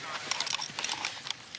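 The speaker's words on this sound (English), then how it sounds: "Grooms keep the horse moving so that he will not stiffen up or get chilled." Hooves of the racehorse Grey Goose clip-clop steadily on hard ground as grooms walk him to keep him from stiffening, with a soft murmur of voices underneath.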